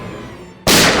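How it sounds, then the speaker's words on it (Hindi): A gunshot fired indoors in a crime drama scene bursts in suddenly as a loud, broad blast after a stretch of low background rumble, then rings on at full volume. "अरे अंदर गोली चली अंदर!"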